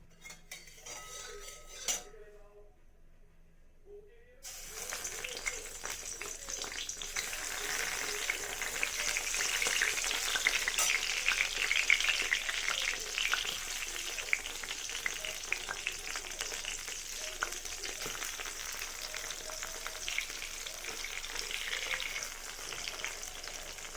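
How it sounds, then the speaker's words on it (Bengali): Brinjal slices fry in a pan with a steady, close hiss and sizzle that keeps going, broken by light clinks of a utensil against the pan. A short quiet gap comes near the start. "তো বেগুনগুলো ভেজে নিই"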